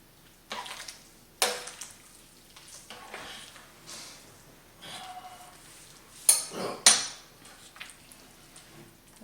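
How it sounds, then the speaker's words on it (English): A spoon stirs 15 bean soup seasoning mix into a crockpot holding beans and a ham bone, with scattered scrapes and clinks against the pot, some sharper knocks, and soft wet swishing between them. "Okay, we're going to stir that in here."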